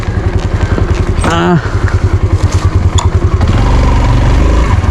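A rice thresher engine chugs loudly and steadily at a fast, even beat during harvest, the machine running with a minor fault, while a voice briefly calls out over it partway through.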